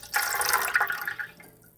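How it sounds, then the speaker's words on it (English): Milk poured into a bread machine pan over lukewarm water, a bright splashing stream that begins abruptly, runs for about a second and tapers off, alone and close. "The next thing that I'll be adding is the milk."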